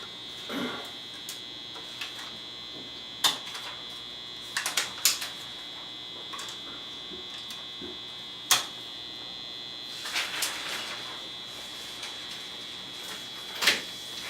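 A steady mechanical hum with a high whine from a running film projector in a theatre, broken by occasional clicks and clatters from the machinery.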